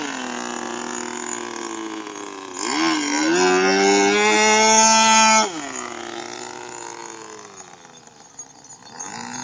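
A cow moos loudly and close by, a long drawn-out low call that swells in the middle and then fades. It is heard alone, with no talking.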